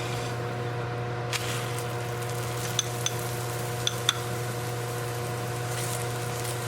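Paratha frying in desi ghee on a hot pan, a steady soft sizzle with a few faint clicks and taps, and no voices.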